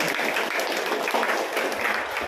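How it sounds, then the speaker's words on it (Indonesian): A crowd at a junior high school arts show and farewell event claps for a student performer: a steady, dense wash of applause throughout, fairly close, with no speech over it. "boleh tepuk tangan untuk Pak Dukunnya."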